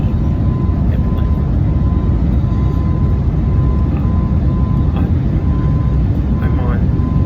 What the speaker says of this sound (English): I'm on the Philadelphia airplane